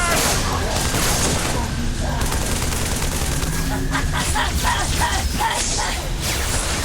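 Dense, continuous gunfire from the shooters DOOM and Halo: loud, overlapping bursts of automatic fire and booms that roll on without a break for several seconds, with shouting voices mixed into the din.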